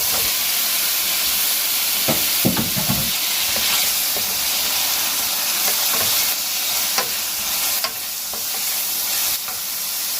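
Shrimp sizzles steadily in a hot pan for fried rice with greens, a continuous loud hiss broken by scattered clicks and scrapes of stirring, with no talking.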